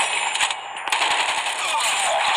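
Rapid automatic gunfire from a deployed sentry gun in a multiplayer shooter, a dense continuous rattle of shots that runs nearly unbroken and loud throughout, with only a brief dip partway through.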